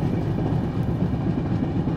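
Rajdhani express train rolling along the rails, heard from inside a 3AC coach as a steady, loud low rumble with a faint rhythmic rattle throughout.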